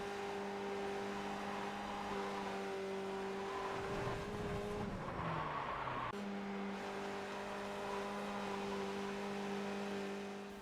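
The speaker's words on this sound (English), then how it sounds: "if you lose the rear, it's really hard to catch and your lap will end like this" A Skip Barber race car in iRacing at Lime Rock Park loses the rear and spins. Its steady, close engine drone breaks up midway into a wavering skid, then the engine note settles back in.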